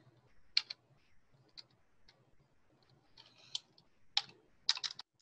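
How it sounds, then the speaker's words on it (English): Sparse, faint keyboard clicks come in a few isolated taps and a quick burst near the end as a search is typed into a search bar in a quiet room. "So I'm going to type it in here to the search bar."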